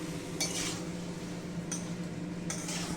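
Chicken seasoned with salt and tomato ketchup is stirred in a pan at home, giving three brief scraping strokes of a utensil against the metal over a low steady background.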